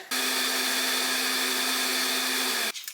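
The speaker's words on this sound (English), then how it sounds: "Just put the oats into the blender. I'm gonna blend this up into like a flour." A blender grinds oats into flour with a loud, steady high-pitched whir that runs for almost three seconds, then cuts off abruptly near the end.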